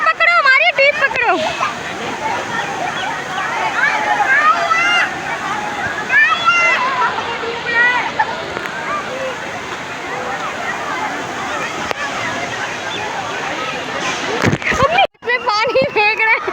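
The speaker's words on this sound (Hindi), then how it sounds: "पानी फेंक रहे।" Water splashing loudly and continuously at a water park as people throw water, with voices chattering and shouting over the churning spray.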